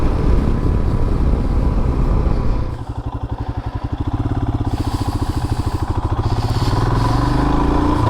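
Royal Enfield Himalayan motorcycle riding on a misty, foggy day, its single-cylinder engine thumping steadily and loudly up close, with a brief dip in revs before the rumble settles into an even, throbbing pulse.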